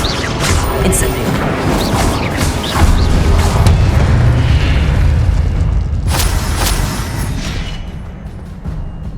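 Fiery spell blasts from the Incendio charm in Hogwarts Legacy during a boss battle, a dense, continuous roaring whoosh with booming bursts, heard under game action and voices.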